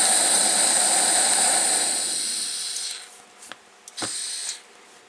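A Coleman Exponent 550B single-burner camp stove roars with a loud, steady flame hiss that fades as it is shut off, leaving a quiet tail broken by a few soft pops and a brief flare of residual gas burning out.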